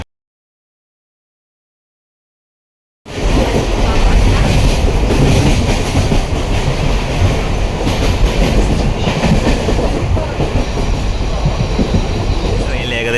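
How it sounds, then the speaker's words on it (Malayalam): Inside a moving Mumbai local train, a loud continuous rumble with rhythmic clickety-clack of wheels on rails and occasional squeal, starting abruptly after three seconds of silence, with some voices faintly underneath. "ഒരു അടിപൊളി എക്സ്പീരിയൻസ് ആണ് കേട്ടോ ലോക്കൽ ട്രെയിനിൽ ട്രാവൽ ചെയ്യുന്നത്."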